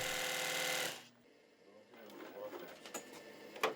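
An old sewing machine, in use for forty years, runs with a loud, rapid mechanical chatter for about a second, then stops, leaving quieter handling clatter and faint voices.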